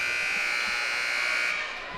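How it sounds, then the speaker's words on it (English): A loud electronic buzzer sounds at a high school volleyball match between Andover and Centennial, a steady sustained tone for about a second and a half before cutting off. "they come out with the buzzer"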